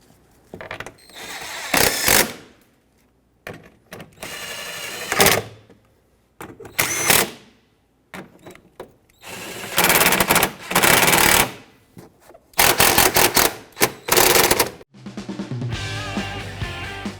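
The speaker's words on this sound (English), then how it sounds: "And then I'll tighten them all up." A power tool tightens the front bumper bolts on a 2013-2018 Hyundai Santa Fe, firing in a series of short, loud, buzzing bursts of a second or two each, separated by quiet pauses.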